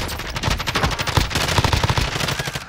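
Rapid automatic gunfire in a video game rattles loud and close in a continuous burst with no pauses from start to finish.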